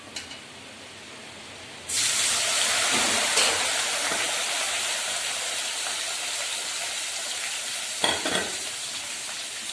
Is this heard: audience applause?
no